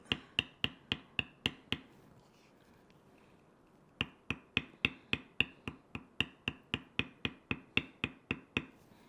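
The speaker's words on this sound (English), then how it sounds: "I'll bevel down the other side and work my way back to that last one again" A leather mouse pad wrist guard is beveled with sharp, evenly spaced tool taps in quick steady runs, separated by a short pause, close and crisp with no talking.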